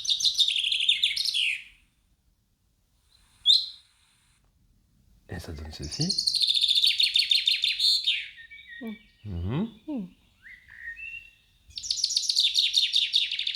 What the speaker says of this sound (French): on va avoir ici le pinson des arbres